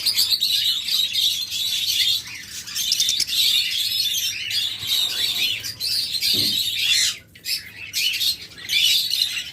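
Locally bred caged birds chirp and squawk continuously close by, a dense bright chatter of many birds with a brief lull near the end.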